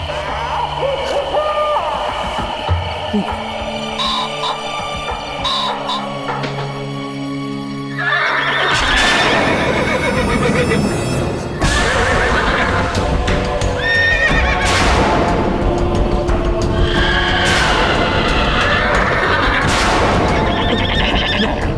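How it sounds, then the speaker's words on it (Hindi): Several horses neigh and whinny loudly over a steady clip-clop of hooves, with repeated calls rising over a continuous trotting rhythm through a long stretch. "प्रीतम, यहाँ तो दूर दूर तक कोई घोड़े नजर नहीं आ रहे, तो ये घोड़ों की आवाज कहाँ से आ रही है?"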